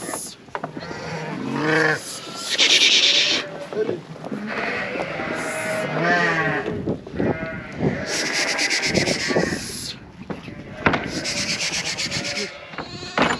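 Lambs bleat repeatedly amid rustling and shuffling, with some voices mixed in among the animals.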